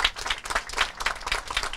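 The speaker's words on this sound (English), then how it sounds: "I wanted to make sure everybody gives them a round of applause" Applause for the Parks and Recreation Department at a Memorial Day observance, a steady wash of many hands clapping in a crowd, moderately loud and continuous throughout.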